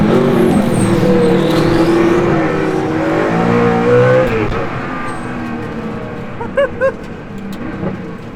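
A Hennessey Venom F5 Revolution Evo hypercar drives on a public road, its engine loud and close with a sustained droning roar that rises and falls in pitch as it accelerates and shifts.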